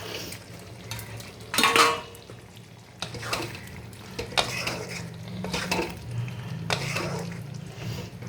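Fried eggplant pieces are stirred into a hilsa fish curry in a pan, with repeated scraping spoon strokes and clanks against the metal over a low bubbling simmer, close and fairly loud.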